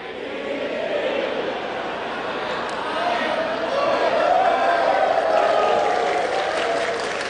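Applause from an audience at a religious sermon gathering, a moderate wash of clapping that swells toward the middle and stays steady, with crowd murmur beneath.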